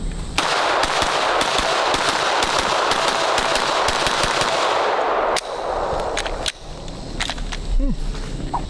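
Rapid, loud gunfire from a compensated Glock 45 pistol in 19 style, a dense string of sharp shots packed together for about five seconds, then a pause and a few scattered later shots with some background noise.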